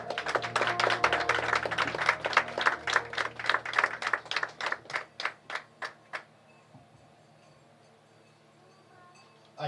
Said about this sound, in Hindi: ताली बजाते हम स्वागत करेंगे।